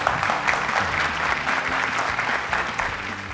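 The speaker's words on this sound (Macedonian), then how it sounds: "Аплауз за нив!" Studio audience applause at a Macedonian family game show, a steady dense wash of clapping that holds loud and even throughout with no talk over it.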